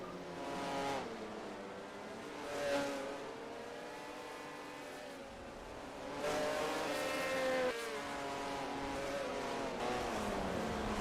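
Race cars at Lee Speedway during a winter series event, engines droning and revving as they circle the track, with pitch rising and falling as cars pass; distant and fairly faint, without voices.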